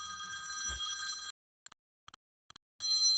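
A state-issued office phone rings in two long electronic bursts with a few short chirps between them, loud and close, with no voices.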